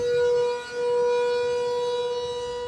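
Civil defense sirens blare continuously during a volcanic eruption in Iceland, a steady loud tone holding throughout with one brief dip in volume.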